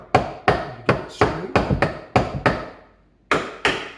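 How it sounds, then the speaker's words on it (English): About ten sharp hammer blows strike wooden kitchen cabinet face frames in an irregular series, with a short pause before the final two knocks; a voice speaks briefly. "Nothing a little hammer can't fix."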